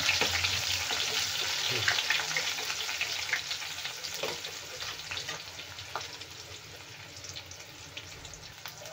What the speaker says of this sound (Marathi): आता आपण घालूया कांदा। फ्राय करून घेऊया।